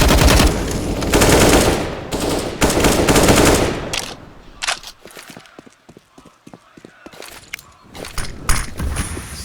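Rapid automatic gunfire in Counter-Strike: Global Offensive during a professional match on the Inferno map, loud dense bursts first, then scattered sharper single shots and clatter.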